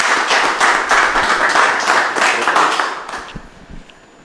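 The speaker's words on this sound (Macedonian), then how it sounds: "Слушнавме доста аплаузи," Audience applause at an award ceremony for green ideas winners, dense sustained clapping from many hands that swells, holds, then thins out and fades over the last second.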